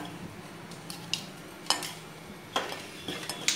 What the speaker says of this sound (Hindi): सबसे पहले हम नारियल का बुरादा हल्का सा भून लेंगे